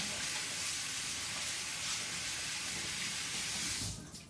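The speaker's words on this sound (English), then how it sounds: "now I'm gonna go ahead and rinse my hands" Hands rinsed under a running tap make a steady loud gush of water into a sink, cutting off abruptly near the end.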